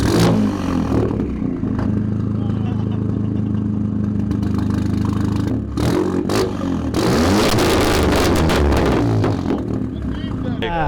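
A Volkswagen Polo GTI 6C with a straight-pipe exhaust and performance software, deep engine drone rising as it accelerates, loud and close, with bursts of rumbling and crackle while people talk over it.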